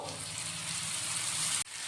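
Masala and curry leaves for a curd tadka sizzling in hot oil: a close, steady hiss and crackle that cuts off sharply near the end, with no talking.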